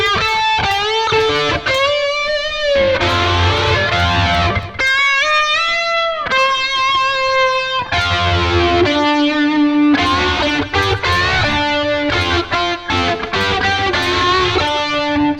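An electric guitar plays a custom distorted tone through a Positive Grid Spark amp, picking out a busy run of short chords and single notes with brief gaps, loud and close, with no voice over it.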